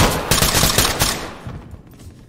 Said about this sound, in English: Shots fired. Suspect down.